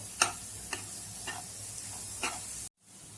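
Gram-flour zunka stirred in a pan over low heat, a steady close sizzle broken by a few light spatula scrapes at intervals, then a sudden cut to near silence at the end.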